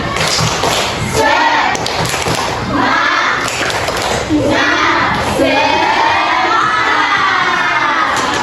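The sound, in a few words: class doing the rhythmic 'tepuk semangat' clapping chant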